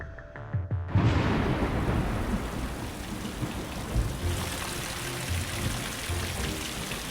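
Thunderstorm over a city with heavy rain, opening with a sharp crack and rolling rumble of thunder, then a continuous loud wash of pouring rain that stays steady to the end, no voices.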